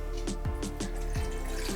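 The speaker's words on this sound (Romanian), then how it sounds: "Peste lămâi am să pun apă," Water poured from a vessel over lemons in a cooking pot, a run of splashy gurgling pulses close by at low level, with no talk.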